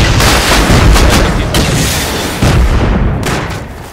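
Heavy explosive blasts tearing through a base wall in Rust, a loud roaring boom with a sharp second detonation partway through, dense rumbling debris filling the space throughout.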